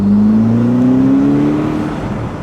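A Ferrari SF90 Spider, a 1000 hp hybrid hypercar, accelerating at full throttle from a standstill, its engine note rising steadily in pitch as a loud, close, continuous roar that eases slightly at the end, with no talk.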